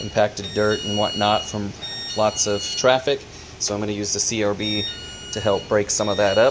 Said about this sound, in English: Sorry about the beeping, they got a sensor for when somebody goes back towards the bathroom area.